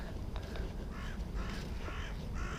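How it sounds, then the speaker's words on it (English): Several crows caw in the woods, a series of loud harsh calls repeating in quick succession from a nearby tree, heard alone over a low rumbling background. "And the crows have got one in the tree there."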